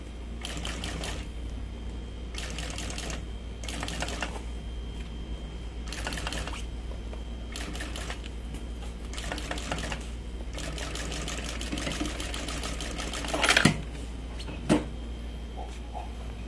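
A sewing machine stitching stretchy mesh-backed fabric, running in repeated bursts of rapid mechanical clatter with brief pauses between them over a steady low hum, close and clear, with a couple of sharp knocks near the end.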